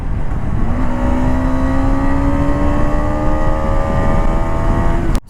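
A KTM 250 Adventure motorcycle engine revs steadily up to mid RPM, its pitch rising slowly across a few seconds before it cuts off abruptly near the end, loud and close with no talk.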